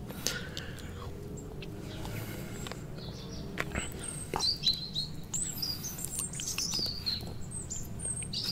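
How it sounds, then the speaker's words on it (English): Birds chirp and tweet outdoors in a green, rural setting, with scattered calls rising over a steady low background hum, somewhat distant and moderately faint. "And the birds sing every day."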